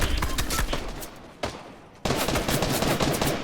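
Gunfire in a video game comes in rapid loud bursts, first a dense volley, then a single sharp blast, then another fast barrage after a short lull, with no talk.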